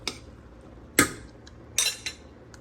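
Spoon scraping and clinking against a pot while stirring cooking oatmeal, a few sharp separate knocks spaced over a couple of seconds, close and fairly quiet with no talking.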